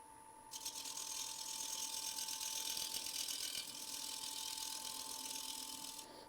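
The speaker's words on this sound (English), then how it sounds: "I'm going to cut a groove in." A threading machine cuts a groove into a workpiece, giving a steady, fairly quiet mechanical whir with a faint rattle that runs continuously for several seconds.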